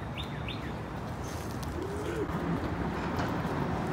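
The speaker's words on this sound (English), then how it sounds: "You hear the birds chirping?" Birds chirping along a park trail in German Village, Columbus, Ohio, with a few short high calls and soft cooing over a steady outdoor rumble, fairly faint and distant.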